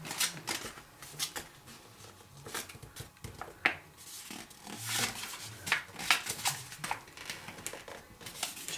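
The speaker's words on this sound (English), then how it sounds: "we're just going to fold up to that edge" Origami paper being creased and folded for a Kawasaki rose, producing close, soft crinkling and sharp crisp snaps in irregular bursts throughout.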